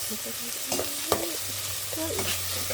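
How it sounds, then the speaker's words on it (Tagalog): Tomatoes cooking in a pan for pinakbet, with a continuous close sizzle and a few stirring scrapes and knocks over the steady hiss. "halu-haluin natin konti, sabay takpan natin para yung kamatis is naluto"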